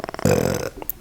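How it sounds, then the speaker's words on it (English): A single loud, close burp into a microphone lasts about half a second and is followed by quiet room sound. "I thought maybe I would start burping into the microphone."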